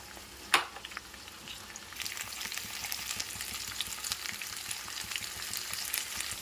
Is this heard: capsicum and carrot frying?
yes